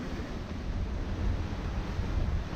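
Steady wind and rushing waves sweep past a Hallberg-Rassy 54 sailing yacht at about 8 knots in a 12-knot beam breeze, a continuous loud, dense roar with no voices.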